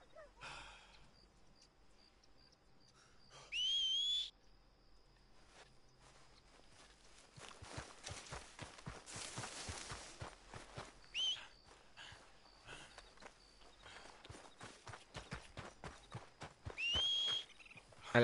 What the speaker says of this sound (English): Your horse is white, you can whistle for it.